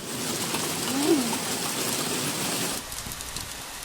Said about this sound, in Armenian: Ձյուն չէ, կարկուտ է, Արտաշատի տեղումներն են։